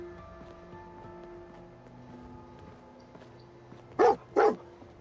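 Dogmeat, the dog companion in Fallout 4, gives two loud, quick barks near the end, over a quiet game ambience and soft background music.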